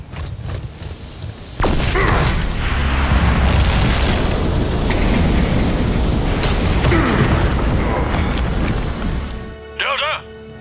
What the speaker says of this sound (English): Once there, Delta successfully detonates the resonator.